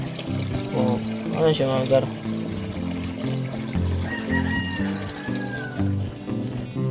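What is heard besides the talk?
water being poured into an aquarium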